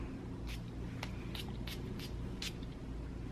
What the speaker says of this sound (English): Well, let's give it a spray.